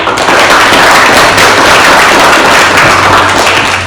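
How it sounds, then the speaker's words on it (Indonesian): A classroom of students clapping hands together, a loud, close, dense patter of applause that keeps going evenly for several seconds. "Ya, sebelumnya tepuk tangan dulu."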